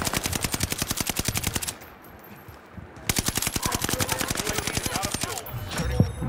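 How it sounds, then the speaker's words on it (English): Video game gunfire in long rapid machine-gun bursts with an evenly spaced rattle, close and loud, broken by a short pause before firing resumes, with no voices over it. "I'm trying to shoot him through the tent."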